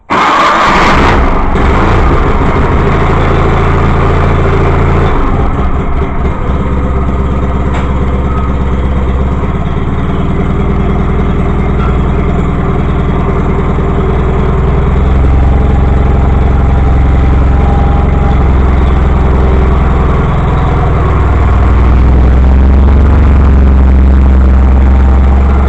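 A 318 engine cold-started on choke, running as a loud, steady idle with a deep low rumble throughout, no talking over it.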